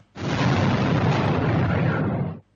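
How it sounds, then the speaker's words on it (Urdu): A powerful explosion at a residential building where fire broke out, a loud sustained roaring blast lasting over two seconds before cutting off abruptly. "زوردار دھماکے کی آواز دور دور تک سنی گئی"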